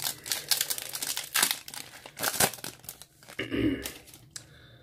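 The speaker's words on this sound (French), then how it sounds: "Donc on va s'ouvrir le premier booster." A Yu-Gi-Oh booster pack from the Les Invocateurs Cachés set is torn open, its foil wrapper crinkling and crackling in irregular close bursts that end in a short tearing rustle.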